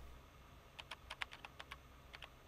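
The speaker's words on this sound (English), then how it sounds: "I'm going to type in" Keystrokes on a computer keyboard, about a dozen quiet, close clicks in a quick irregular run, then two more after a short pause over a low steady hum.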